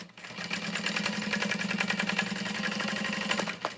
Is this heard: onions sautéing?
no